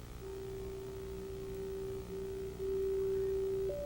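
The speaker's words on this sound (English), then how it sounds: "it's a sine wave" Pure synthesizer sine wave tone, a steady, plain single pitch sustained for several seconds that steps up slightly near the end, heard alone against faint background hiss.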